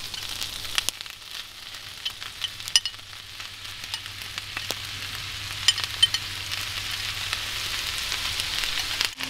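Rösti with sauerkraut frying in a pan over a Bushbox camping stove outdoors, a steady close sizzle with scattered crackles and pops, plus a low hum throughout.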